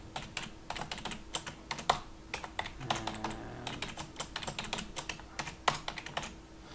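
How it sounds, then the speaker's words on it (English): Computer keyboard keys pressed in quick succession while navigating a table editor: crisp, close plastic clicks in an irregular, fairly steady rhythm with no speech. "at the moment I'm just using the arrow keys on the keyboard to navigate"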